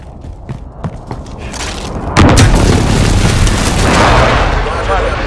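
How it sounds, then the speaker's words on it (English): Precision airstrike explosions in Call of Duty Modern Warfare multiplayer: scattered distant gunfire cracks, then a heavy booming blast and a sustained roaring rumble of further explosions, loud and close. "Enemy precision airstrike inbound."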